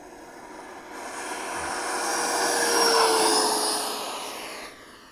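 Freewing Stinger 90 RC jet plane flying overhead, its ducted-fan whine swelling as it approaches, peaking mid-pass, then fading away, steady and fairly loud with no talking.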